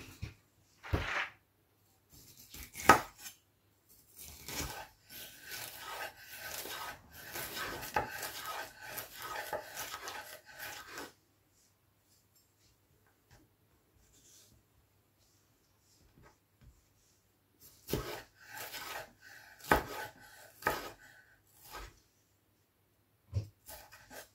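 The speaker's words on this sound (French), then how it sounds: "on va couper ça assez finement" Food sliced finely with a knife for a tomato tarte tatin, in quick rhythmic cutting taps close by, two bursts of chopping separated by a quiet pause.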